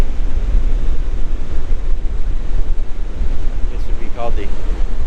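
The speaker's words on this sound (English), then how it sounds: "On the beach once again" Waves break on a beach at Pacitan in a continuous loud churning wash of surf, buffeted by wind noise on the microphone, with a brief faint voice near the end.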